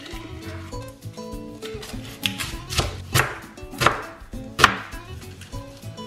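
A knife cutting an onion on a tabletop beside a wet napkin, a series of irregular crisp chopping thuds that grow louder toward the end, heard close over a faint tonal background with no talking.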